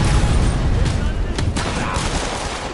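Sniper gunfire in a Spider-Man video game, as a continuous dense crackle of shots and blasts that stays loud and steady over about three seconds, with muffled voices mixed in.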